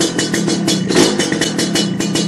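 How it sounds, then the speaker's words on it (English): A Lambretta scooter engine running close by in gear with the clutch pulled, its rapid pulsing putter swelling briefly as it is revved, then settling back. "give it a rev."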